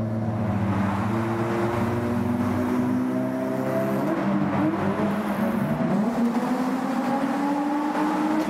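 A car on the Autobahn downshifting and accelerating, its loud engine climbing in pitch through the gears with a steady roar.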